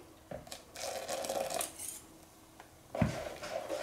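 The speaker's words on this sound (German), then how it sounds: "Gebe ich jetzt ganz bisschen nur rein und gut verrühren" A whisk or spoon clinks against a pot while hot milk is stirred into custard for a Napoleon cake, with scraping, rattling bursts and a few sharper knocks on the metal.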